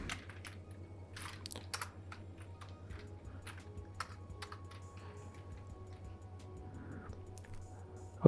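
Code is typed on a computer keyboard in soft, irregular clusters of key taps, close and quiet over a low steady background hum.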